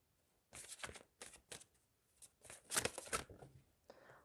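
Large Lenormand cards are shuffled in short crisp riffling bursts, close and fairly quiet, with brief pauses between the flurries.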